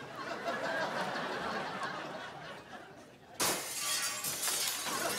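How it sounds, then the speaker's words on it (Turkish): Glass shattering with a sudden bright crash partway through that follows faint murmuring, then a dense spray of tinkling fragments continuing to the end. "Cam kırıldı sanki ya."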